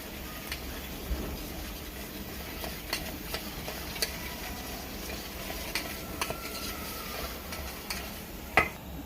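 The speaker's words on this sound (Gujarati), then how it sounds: "પછી નાખી છાશ નાખીને હલાવી નાખવાનું" A spoon stirs a dosa batter of gram flour, wheat flour and buttermilk in a bowl, a soft, steady wet scraping with faint scattered clicks against the vessel, close and quiet, with no talking.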